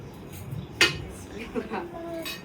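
A pudding is turned out of its mould onto a dish in a home kitchen, giving a sharp clink of crockery followed by lighter knocks and scrapes, with a voice talking nearby.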